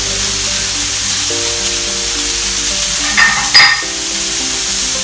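Beet cubes sizzle in hot oil in a pan, a loud steady frying hiss throughout with a brief burst of crackling as more pieces go in.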